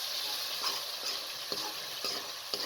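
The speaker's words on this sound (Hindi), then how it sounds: "ये देखिए जी, मसाले और टमाटर अच्छे तरीके से हमने भून लिया है" Spices and tomatoes with a splash of water fry in a pan, a soft steady sizzle with light periodic scraping strokes from stirring, fairly quiet and close, no voices.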